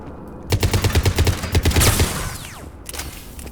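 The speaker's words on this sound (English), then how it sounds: "I think I just also really like the sound effect of the gun." Rapid gunfire from a weapon in the Mass Effect Legendary Edition video game: a fast burst of loud, close shots in even rhythm, followed by a whooshing sweep and a fading rumble.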